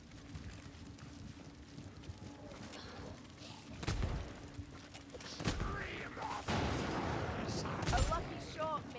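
Gunshots in Warhammer Vermintide 2, with sharp cracks near 4, 5.5 and 8 seconds over a steady low ambient rumble and some game noise.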